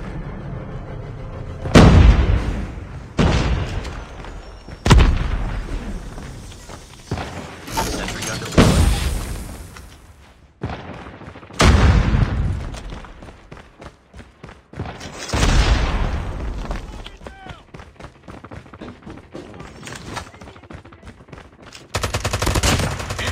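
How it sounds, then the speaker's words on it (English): Orbital laser strike in Call of Duty Mobile multiplayer: a string of loud, booming explosions in separate bursts, each a sharp blast fading into rumble, with mechanical gunfire and game effects in the quieter gaps. "Deploying orbital laser."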